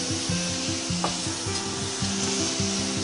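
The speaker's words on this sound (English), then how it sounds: "Let that simmer all together" Kimpira vegetables simmering in a pan with a steady close sizzle and soft bubbling, while a utensil rubs and stirs the pan in repeated strokes beneath a constant low hum.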